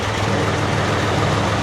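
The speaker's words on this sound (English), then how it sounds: "first time driving a Porsche tractor" A vintage Porsche tractor's engine runs loud and close while driving, a steady low chugging rumble with no pauses.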